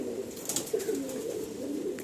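A red Madras female pigeon in a cage gives a soft, low, rolling coo, faint and close, with quiet background noise.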